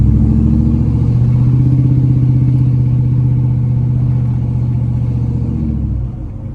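A 5.9L engine with true dual exhaust and mufflers revs steadily, its choppy, loping rumble loud and close, then drops off near the end.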